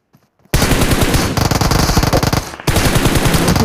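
Heavy automatic machine-gun cover fire in a video game: after a brief quiet start, long loud rapid bursts of shots hammer on, pause for a moment, then resume, with no talk over them.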